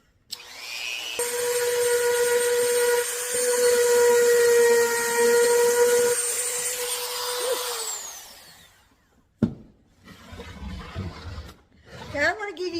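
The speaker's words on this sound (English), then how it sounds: "I'm going to get my little Dremel and go around in all these little spots" A small Dremel rotary tool cleans up the valleys of a wood carving, whirring with a steady high-pitched whine for several seconds before winding down, after which a person speaks over light handling noise.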